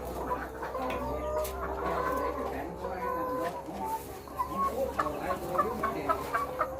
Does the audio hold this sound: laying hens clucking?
yes